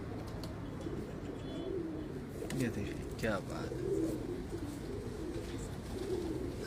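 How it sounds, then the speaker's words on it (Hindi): Pigeons coo softly in a loft, low rolling calls repeating every second or two, while someone talks over them. "ये कबूतर है उस्ताद के।"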